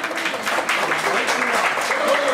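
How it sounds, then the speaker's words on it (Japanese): An audience at a Chofu Facebook community meetup applauds warmly, a dense, even patter of many hands clapping close by that continues for the whole stretch. "拍手をお迎えください。"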